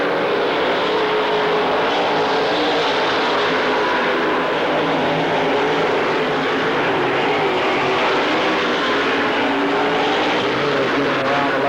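Race cars roaring around a dirt track at Lernerville in 1997, a dense, loud continuous engine drone from several cars at speed, steady and unbroken with no voices over it.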